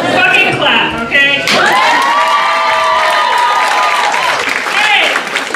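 Audience at a Richmond gallery comedy show clapping while cheering, whooping and shouting, a loud lively crowd with strong voiced yells rising over the continuous applause.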